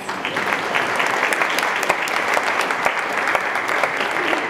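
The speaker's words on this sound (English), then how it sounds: "Give yourselves a round of applause." A packed church audience at a community choir's holiday concert breaks into steady, dense applause, a continuous wash of many hands clapping with scattered sharper claps standing out, heard alone without talk.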